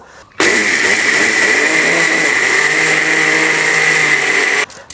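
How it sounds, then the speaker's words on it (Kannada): A mixer grinder grinds washed, soaked ragi to draw out its milk, a loud, steady high-pitched motor whirr that starts abruptly and runs evenly for about four seconds before cutting off. "ನಾನು ಮಿಕ್ಸಿನಲ್ಲಿ ರುಬ್ಕೊಂಡು ಹಾಲು ತೆಕ್ಕೋತಾ ಇದ್ದೀನಿ"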